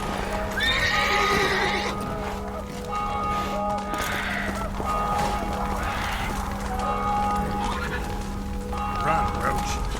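In The Witcher 3 video game, a horse gallops with rhythmic clip-clop hoofbeats and neighs several times, over steady background game sound, with a voice speaking briefly.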